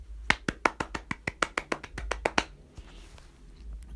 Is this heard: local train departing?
no